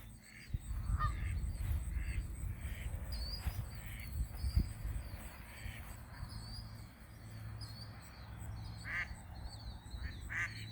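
Geese honk and quack at a campground under stormy skies, calling repeatedly in short bursts at a moderate distance over a low rumbling background.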